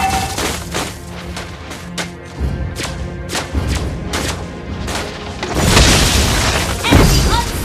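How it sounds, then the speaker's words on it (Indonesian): A turret is destroyed in the video game Mobile Legends: a burst of loud booming thuds and crashing impacts building to a heavy explosion, with game effects layered over it. "Our turret has been destroyed."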